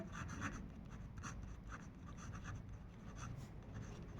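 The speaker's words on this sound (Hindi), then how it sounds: "तो मैं लिख देता हूँ मल्टीप्लाई" Someone writing out maths equations by hand during a class 9 lesson, soft repeated scratchy strokes heard close over a steady background hiss with no talking.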